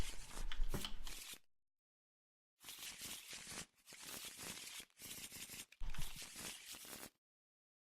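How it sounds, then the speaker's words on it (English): Cards from an Arkham Horror card game encounter set are shuffled in several crisp, riffling bursts separated by short silent pauses, close and fairly quiet. "Let's give everything a shuffly shuffle."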